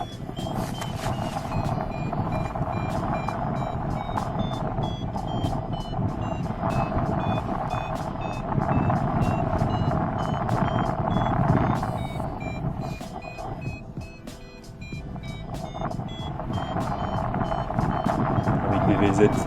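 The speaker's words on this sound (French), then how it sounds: "Le son du Vario" Paragliding variometer beeping rapidly in a strong thermal over the Vosges near Le Drumont, a steady train of high pitched tones rising and falling under continuous wind rush, with faint talk.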